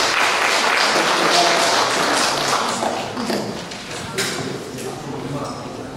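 A crowd at a photography club's exhibition opening applauds, a dense wash of clapping from many hands that swells, then gradually thins and fades, with a few louder claps near the end.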